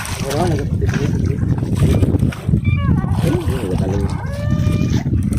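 Water splashes and sloshes against a fishing boat hull in big waves amid steady wind noise, with people talking loudly over it throughout.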